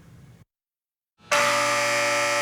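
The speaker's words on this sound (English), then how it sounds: "When the alarm sounds," A loud, sustained alarm blares at Homestead Air Reserve Base, a steady buzzing horn tone that starts abruptly after a brief pause and holds at full volume to the end.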